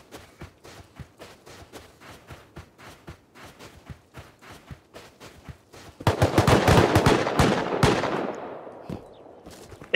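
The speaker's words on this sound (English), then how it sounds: "It took 4 shots to kill this scientist" Rapid video game gunfire, a steady stream of close shots for several seconds, then a louder, denser volley that swells and slowly fades.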